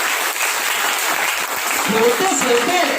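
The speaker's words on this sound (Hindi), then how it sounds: "जोरदार तालियां इस प्रोडक्ट के लिए" Audience at a Vestige business presentation applauding a product, a loud, dense burst of many hands clapping that continues throughout, with voices audible over it near the end.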